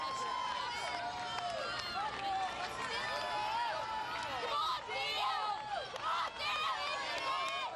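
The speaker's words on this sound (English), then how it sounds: "Shouting, screaming, encouraging around" Crowd at a UK's Strongest Man 2005 strongman competition at Customs House, a steady dense roar of shouting, whoops and cheering voices throughout, with overlapping excited calls and no distinct single speaker.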